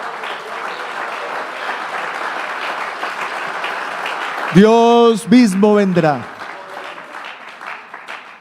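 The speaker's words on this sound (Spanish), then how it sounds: "Dele un aplauso al Señor" Church congregation applauding the Lord during a Sunday service, a steady wash of clapping that continues while someone speaks loudly over it mid-clip.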